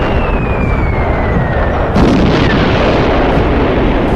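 Cartoon bombs bursting on zombies dropped from above in an animated scene, a dense, continuous rumbling roar of blasts with a falling whistle early on and a fresh heavy burst midway, loud and sustained throughout.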